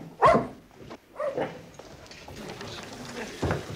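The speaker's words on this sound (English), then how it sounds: "Go on, daft dog." A dog gives a couple of sharp barks, one loud near the start and another toward the end, with softer sounds and murmured voices between.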